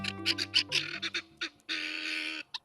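Helmeted guinea fowl give raucous calls: a rapid run of harsh, honking cackles, then one long grating call and a final short squawk, loud and close.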